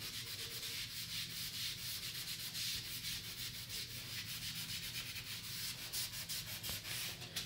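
A magic eraser scrubs a shower surface in a continuous rhythmic rubbing, close and fairly faint, with no talking.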